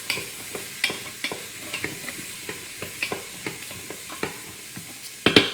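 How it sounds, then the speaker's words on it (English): Ingredients sautéing for a non-dairy buffalo chicken soup get stirred in a pot, light sizzling under a string of spoon clicks and scrapes, ending in a louder clatter, close and with no voices. "And while that is sauteing, let me give it a stir."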